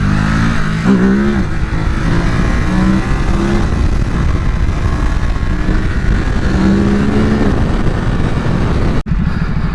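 A Ducati Supersport 950 motorcycle engine, ridden through small wheelies on a road, drones loud and close for the whole stretch with several short revving surges under heavy wind rush.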